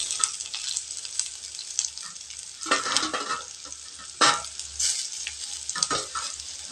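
Garlic and dried red chillies fry in oil, a constant high sizzling hiss broken by a few louder bursts of stirring and spatula scrapes, close up with no talking.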